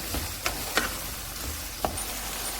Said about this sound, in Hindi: अब इन्हें हम थोड़ी देर तक भूनेंगे।